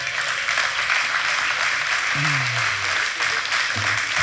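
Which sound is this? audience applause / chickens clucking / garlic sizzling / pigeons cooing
audience applause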